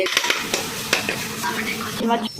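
Masala for a fish curry fries in oil in a pan, a steady sizzle broken by the scrape and clink of a stirring spoon against the pan, close and fairly loud, with no one speaking.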